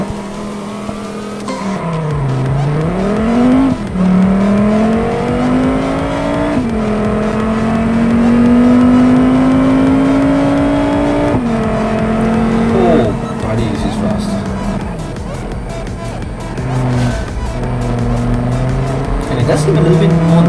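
A French car in the BeamNG.drive driving simulator runs continuously, its engine pitch rising and falling as it accelerates and shifts through corners, while someone talks over it throughout.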